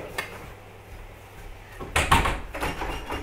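A door to a locked room in a flat is rattled and banged in a few irregular bursts, a faint knock first, then a louder cluster of thumps and clatter midway and more rattling toward the end.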